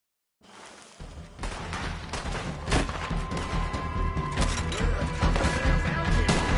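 Gunfire in the Western video game Red Dead Redemption 2, a loud, dense barrage of overlapping shots and crashing impacts building steadily after a brief silent start, with no talk.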